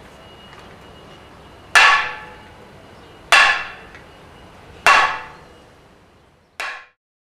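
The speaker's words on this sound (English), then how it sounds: "whack it into the ground with a sledgehammer" Sledgehammer whacking a metal driver to push a ground spike into the ground for pergola posts, four loud ringing clanks spaced about one and a half seconds apart, each decaying quickly.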